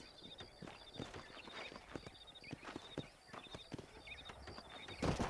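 Horse hooves clip-clop steadily at a walking pace across open ground in Red Dead Redemption, close and fairly quiet, with faint game ambience and a louder thump near the end.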